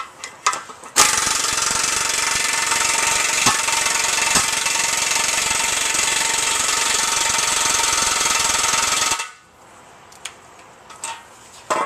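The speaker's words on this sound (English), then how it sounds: "I'm going to grab my impact wrench and go at it" An impact wrench hammers continuously for about eight seconds, driving a press to push out a rear upper control arm bushing on a Jeep Grand Cherokee, loud and close, then stops and leaves faint tool clatter.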